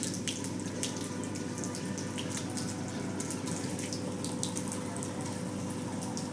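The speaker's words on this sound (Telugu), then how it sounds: "ట్యాప్ నుండి వచ్చే వాటర్ తాగుతాడండి" A golden retriever laps at water streaming from an outdoor tap, the steady splashing flow running continuously at close range with no voices over it.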